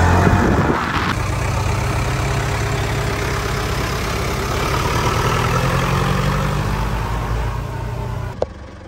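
Ute engine running at a steady idle close by, a low continuous rumble after a starting surge, ending with a sharp knock near the end.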